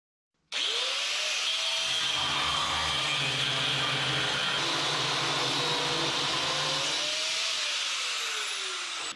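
Handheld power grinder spinning up and running continuously at a shop while signs are built, a loud steady whine with a slight pitch sweep as it starts and loads.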